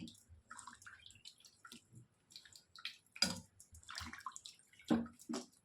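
Butter is rinsed in water by hand to make ghee, producing close sloshes, splashes and drips in short bursts separated by near silence.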